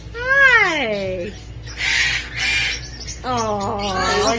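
A pet bird gives loud, near squawks in several bursts, each a drawn-out harsh call with a rising and falling pitch, and someone talks softly between them.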